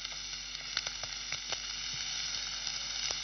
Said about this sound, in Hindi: अब इसी तेल में आप मिंस्ड अनियन ले लें या ग्रेटेड प्याज भी ले सकते हैं। प्याज को हल्का सा पकाना है हमने।